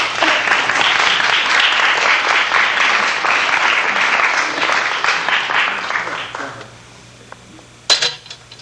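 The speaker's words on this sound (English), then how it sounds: "will you clap real loud?" An audience claps loudly and steadily for several seconds, then the applause thins and fades, followed by a brief sharp knock near the end.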